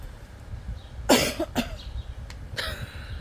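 A person coughs a few times and clears their throat at close range, with short harsh bursts separated by brief pauses.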